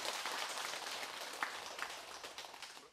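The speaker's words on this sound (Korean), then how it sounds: "박수 쳐주세요" A gathering at a Buddhist temple dharma talk claps, a moderate patter of applause with a few sharper individual claps that gradually thins out.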